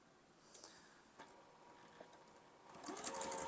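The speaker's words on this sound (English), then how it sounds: "I'm going to stitch the center to the left on each of these rows." A sewing machine stitching rows of a sawtooth star quilt block with a scant quarter-inch seam, a faint steady mechanical whir that grows louder and busier near the end.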